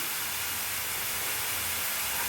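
Onions frying in a pan, a steady loud broadband sizzle and hiss filling the whole moment with no pauses or voices.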